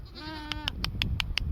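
A goat gives one short, wavering bleat nearby, followed by a quick run of sharp clicking sounds.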